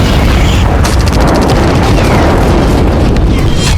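Missiles fired from Russian bombers strike Ukrainian areas near the Polish border, producing a loud, dense roar of blasts and booming rumble that fills the whole stretch, with crackling bursts over it.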